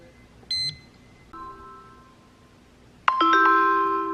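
A REC TEC grill thermometer's high-temperature alarm sounds in bright, pure tones: a short beep, a softer held tone, then a loud sustained multi-tone chime that keeps ringing.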